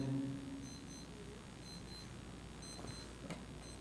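A lost wristwatch's alarm beeps in short, faint, high repeated bursts, in small groups, inside a quiet indoor hall during an I'tikaf question-and-answer session, with low room murmur underneath.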